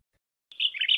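Bulbul giving a brief bright chirping call after a moment of silence, a single short warbling phrase, clear and alone.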